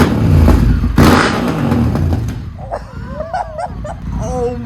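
A Honda Africa Twin motorcycle fitted with a full exhaust system revs loudly in short bursts at first, then a dog whines and yips over the idling engine.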